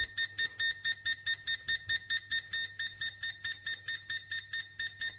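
A Neoteck natural gas detector with a 12-inch gooseneck sounds its alarm: loud, close, evenly pulsed shrill beeps repeating about four times a second, alone over a faint low hum.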